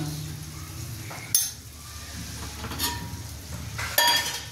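Tomato paste with salt being sautéed in a pan for pabda fish curry, a soft sizzle with occasional spoon clinks and scrapes against the pot, quiet and near.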